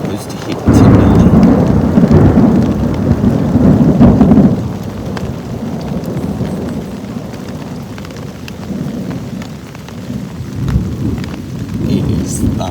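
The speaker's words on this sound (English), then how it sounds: "It is thunder and lightning, and we are in the middle of nowhere." Heavy rain pours steadily during a thunderstorm in remote bushland at Mt Barney National Park. A loud, deep roll of thunder opens the scene and fades after a few seconds, and a second, softer rumble comes near the end.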